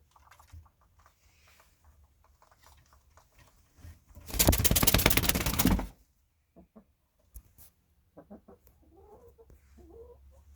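A loud, dense flurry of clucking and flapping bursts out for about two seconds as a chicken falls, then fades to scattered faint clucks and soft rustling nearby, on a May evening.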